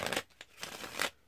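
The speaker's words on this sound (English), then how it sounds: "Now I can shuffle them up even more" A deck of playing cards is shuffled by hand, giving several quick papery riffling bursts close up, with no talking.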